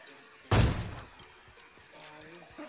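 A single loud, sharp AWM sniper rifle shot in the mobile game PUBG Mobile Lite rings out and decays, followed by faint ambient game sounds.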